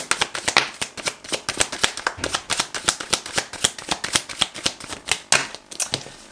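Tarot cards being shuffled by hand, a rapid run of crisp, close flicking snaps in an uneven rhythm that stays loud throughout.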